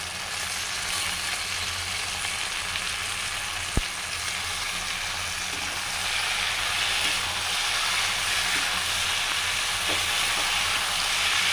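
Boiled taro flowers frying in a pan, a steady loud sizzle with fine crackle, one sharp tap partway through, and the hiss swelling a little later on.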